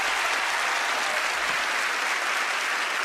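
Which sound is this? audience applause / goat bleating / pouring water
audience applause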